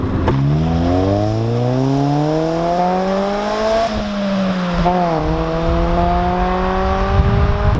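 A 1999 Honda Civic Si EM1 with an axle-back exhaust and otherwise stock drivetrain revs up through the gears, engine pitch climbing and dropping at each shift in a loud, steady in-car drone without talk.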